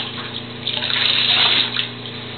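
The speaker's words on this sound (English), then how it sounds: "Get your cup and dump the water on your hair." Water is poured from a cup over a child's hair in a bathtub, a loud close splashing gush that swells in the middle and eases off, with room echo.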